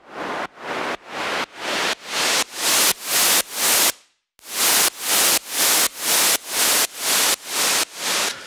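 White noise, autopanned between left and right in a mix, swells in a steady pulsing rhythm of repeated hissing surges, with one brief gap of silence midway, loud and continuous with no voices.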